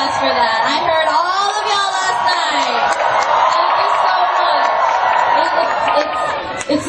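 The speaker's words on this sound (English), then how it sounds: "Round of applause for that." A loud crowd at a Girls' Generation fan event in New York shrieks and cheers continuously, with high-pitched screams and whoops layered over one another at a close, steady level throughout.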